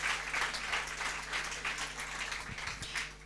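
Applause from a seminar audience, steady and moderately distant, with a low hum underneath and a few brief low thumps near the end.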